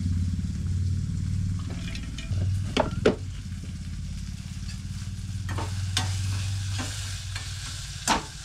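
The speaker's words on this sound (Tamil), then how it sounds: "வெங்காயம் தக்காளி ரெண்டும் நல்லா வதங்கி வச்சு" Onions and tomatoes sauté in a pan for a village-style curry, sizzling steadily while a spoon stirs and scrapes against the metal with several sharp clinks, close and clear.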